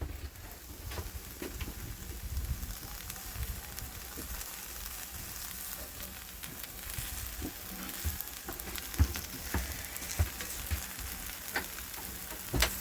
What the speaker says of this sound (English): Have another picture of the onions cooking.